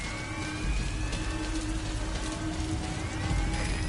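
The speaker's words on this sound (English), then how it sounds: "Sound of rainfall should help to mask your footsteps." Steady rainfall in Wolfenstein: The New Order, a dense continuous hiss that stays even and fairly loud for the whole stretch, with no talk over it.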